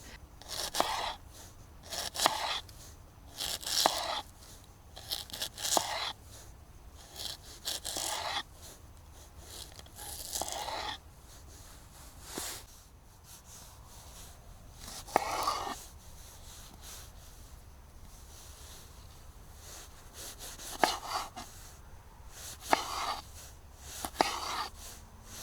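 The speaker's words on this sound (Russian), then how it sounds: "Несмотря на толщину клинка, нож дает возможность нарезки тонкими ломтиками." A bushcraft survival knife with a thick blade cuts thin slices, giving repeated short crisp slicing and crunching strokes at close range in irregular bursts, with quiet pauses between cuts.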